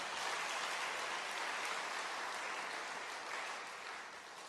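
A church congregation at an evening worship service applauds, with dense, even clapping that holds steady and then tapers slightly toward the end.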